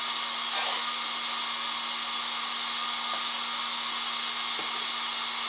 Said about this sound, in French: J'active le moteur.